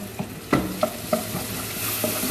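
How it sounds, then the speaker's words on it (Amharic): Garlic and ginger paste fries with onions in a pan, a steady sizzle broken by several distinct scraping knocks of a spoon stirring, close and clear, no speech. "በዚህ መልኩ የተወሰነ ሰዓት አብረን ከሽንኩርቱ ጋር ጥብስ እናደርገዋለን"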